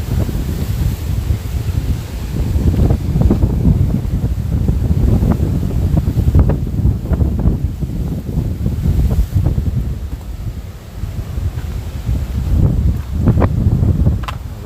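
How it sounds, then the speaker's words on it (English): Strong wind buffets the microphone outdoors at the Soup Bowl and Joe's River coast, a loud, continuous low rumble with gusty surges, heard alone without speech. "see if I can get rid of this wind for a minute"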